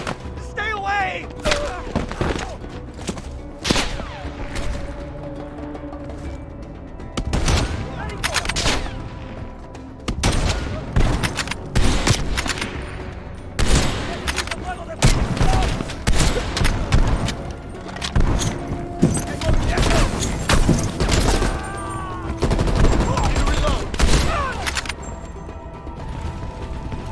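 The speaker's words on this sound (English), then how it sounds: "They're shooting at us!" Gunfire in Black Ops Cold War rings out in repeated sharp bursts and single shots amid mechanical clatter, loud and close, with voices shouting in between.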